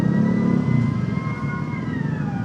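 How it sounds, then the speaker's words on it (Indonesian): An ambulance siren wails somewhere behind a motorcycle in Jakarta street traffic. The faint rising and falling tone sits over a close engine rumble and road noise throughout. "seperti di belakangnya ada ambulan kayaknya ya"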